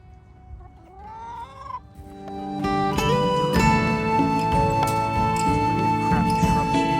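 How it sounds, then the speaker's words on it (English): Chickens cluck and call close by, a few squawks at first, then busier overlapping clucking joined by a loud, steady tonal background. "these are a very comfortable bunch of chickens"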